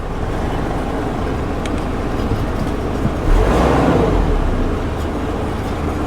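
A Nissan Navara pickup truck engine idles with a steady low rumble, close by, swelling briefly louder midway before settling back.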